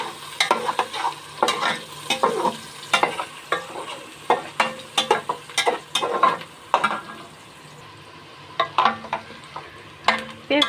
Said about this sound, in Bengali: আমি এই যে গোলমরিচ, এলাচ, দারচিনি, তেজপাতা এগুলা এই যে পেঁয়াজের সাথে দিয়ে দিলাম।